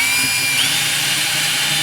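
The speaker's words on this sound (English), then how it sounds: "Slide those right in, and then tighten them down with your T15 driver." A power driver with a T15 bit drives screws snug during a remote start install in a Sprinter van, making a steady, loud, close whirring buzz that runs unbroken, with no talk.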